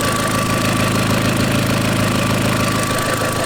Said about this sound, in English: I think it's coming from my downpipe.